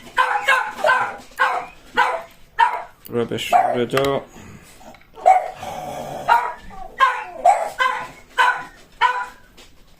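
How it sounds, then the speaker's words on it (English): Dogs bark repeatedly in short, loud bursts throughout, mixed with a person talking nearby. "As you can hear, there's the dogs."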